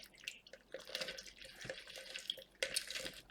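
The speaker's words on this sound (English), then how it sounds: "cut the lemons into half and then juice it" Juice from halved lemons drips and trickles during hand juicing, a few close, quiet wet drips and splashes with short liquid runs and no talk.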